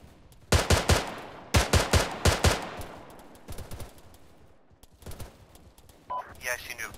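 Rapid bursts of automatic gunfire from a first-person military shooter game, several loud volleys in quick succession followed by scattered single shots, with a brief voice near the end.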